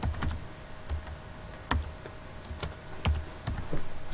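Typing on a computer keyboard, irregular close clicks and key taps at a steady working pace.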